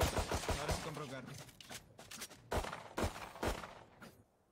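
Gunfire in a video game, a quick string of sharp snapping shots in uneven bursts, close and fairly loud, with game sounds and a voice faintly in between.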